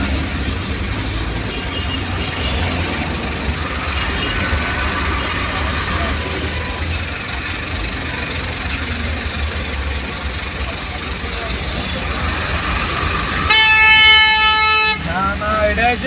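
Traffic stands jammed on the Meghna bridge at night, a continuous rumble of idling engines broken by scattered honks and one loud, sustained horn blast near the end, with voices talking over it.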